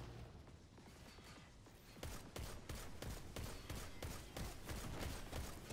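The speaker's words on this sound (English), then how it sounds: "I'm definitely just going to spam my scout rifle" A scout rifle in the video game Destiny 2 firing repeatedly, a steady stream of close, punchy shots in a regular rhythm over game noise, growing denser after the first couple of seconds.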